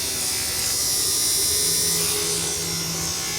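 Andis AGR hair clippers run steadily after blade sharpening, giving a constant close electric buzz with a bright, even drone for a few seconds.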